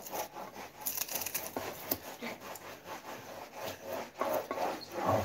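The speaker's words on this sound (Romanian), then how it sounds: "Tăiem ceapa mărunt." A knife finely chopping onion on a cutting board for cabbage rolls, giving a steady run of close, soft scraping and tapping strokes throughout, with no talk.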